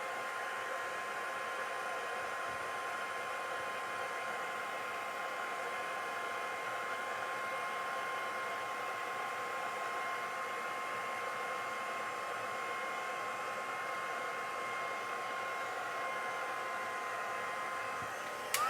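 A heat tool blows continuously for nearly twenty seconds, drying freshly re-inked Memento stamp ink on a papercraft card; a steady, moderately loud airy whir with a faint tonal hum, no talking.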